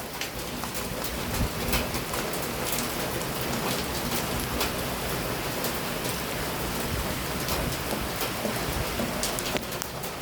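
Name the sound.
heavy rain falling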